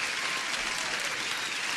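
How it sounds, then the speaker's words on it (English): Thick, even crowd applause fills the whole stretch, a continuous hiss of many clapping hands with no pauses or talk breaking through. "I'm gonna give you an applause"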